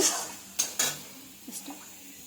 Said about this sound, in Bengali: এবার আমি এর মধ্যে মটনটাকে দিয়ে দেব